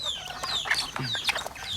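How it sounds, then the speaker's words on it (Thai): Native Thai bantam chickens, kept free-range at a home on the edge of a forest, cluck and chatter close by in a lively, overlapping flock with no pauses. "เลี้ยงไก่แจ่พันธุ์พื้นเมืองครับ"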